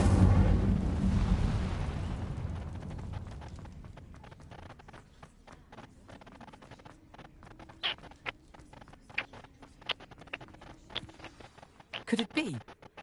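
An Incendio fire spell is cast in a Harry Potter video game: a loud, roaring burst of flame that fades slowly over a few seconds, followed by quieter scattered clicks and ticks of game sounds.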